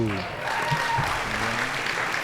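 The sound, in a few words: crowd applause at pickleball match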